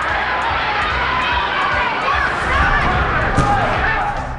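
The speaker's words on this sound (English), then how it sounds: "The crowd going wild" A boxing crowd at a middleweight title fight roars wildly after a knockout, a dense, loud, sustained cheer with shouts and stamping throughout.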